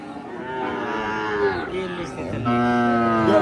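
A native calf about one and a half to two years old moos loudly and close by at a cattle market, giving one long drawn-out low call followed by a second rising one, with crowd noise faintly behind.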